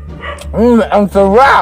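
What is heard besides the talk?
dogs barking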